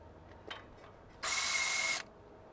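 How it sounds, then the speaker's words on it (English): A power tool or ratchet runs in a short steady burst of about three-quarters of a second, tightening the outer tie rod end nut on a 2019 GMC Sierra Denali pickup, preceded by a few faint clicks in a quiet garage. "Run the nut on the outer tie rod end."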